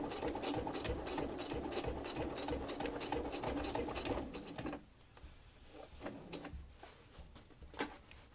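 A sewing machine runs a straight stitch on fabric with a rapid, steady mechanical chatter. It stops partway through, then gives a few short bursts and clicks, all close and moderately quiet.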